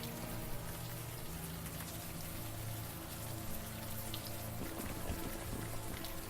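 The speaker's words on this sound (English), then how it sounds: "the warm rain is coming down" Warm rain falls in the adventure game Unavowed, a steady close hiss of drops on hard surfaces that runs unbroken, with a few faint background tones and no talking.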